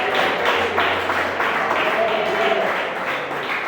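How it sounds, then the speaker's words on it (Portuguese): A church congregation claps together at a service, with dense, steady applause close at hand, joined by a few voices throughout. "com bastante palmas"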